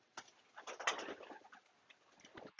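Pigeons coo softly nearby in a series of short, throaty calls with brief wing rustles, fairly faint against an otherwise quiet background.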